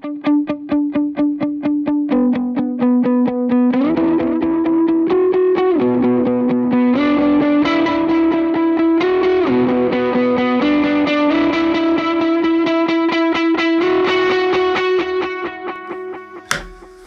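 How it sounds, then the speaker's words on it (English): Electric guitar run through a worship pedalboard of delays with no reverb, playing a steady melodic line of picked notes whose echoes repeat and pile up into a wide wash, loud and continuous, ending on a sharp final accent. "And this is even without reverb, so these delays fill up a ton of space."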